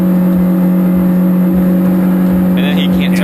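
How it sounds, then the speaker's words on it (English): A car engine stuck at full revs holds a steady, high, loud drone that does not drop, while people talk over it near the end. "you can hear the engine is still at full rev"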